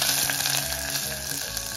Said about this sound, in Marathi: मी त्याच्यामध्ये कांदा आणि लसूण घेतलेली 4-5 लसीच्या पाकळ्या चांगला आपण हे भाजून घ्यायचंय